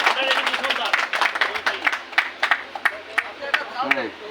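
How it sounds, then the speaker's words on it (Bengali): An audience claps at a friends' association gathering in Pirojpur in 2025. Scattered, fairly loud claps rise under someone speaking through most of it. "জোরে করতালি"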